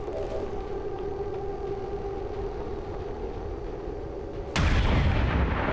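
XCOM 2 combat: a low rumbling battle backdrop holds steady, then a sudden loud burst of gunfire erupts near the end and continues to the cut.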